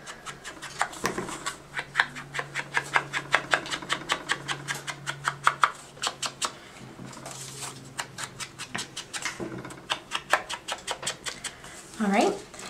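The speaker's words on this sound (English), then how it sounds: "We're going to use our Sahara sand ink pad and sponge dauber. We're just going to go ahead and ink the edges." A sponge dauber pats Sahara sand ink onto the edges of a cardstock piece in quick, soft repeated dabs. A voice speaks over the faint rubbing.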